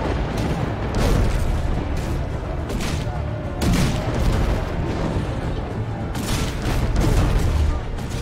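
Cannon fire in the video game Risen 3: Titan Lords, a series of heavy booming blasts at roughly one- to three-second intervals over a dense, rumbling battle din, with a voice talking over parts of it.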